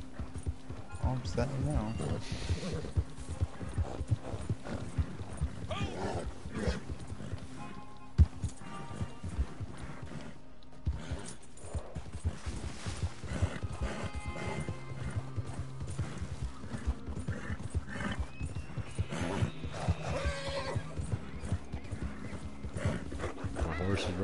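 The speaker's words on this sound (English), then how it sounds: "My horse is running out of energy." In Red Dead Redemption 2 Online, a tiring horse gallops with rapid, steady hoofbeats and lets out occasional whinnies across the whole stretch, while players talk over it throughout.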